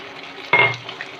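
Steady frying sizzle of pepper chicken with a short scrape of a utensil against the pan partway through as it is stirred, near and moderately loud.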